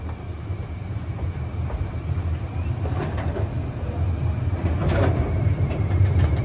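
Steady low rumble of the Gatorland Christmas Express train ride with rattling and clattering, occasional brief squeaks and clanks over the continuous rolling noise.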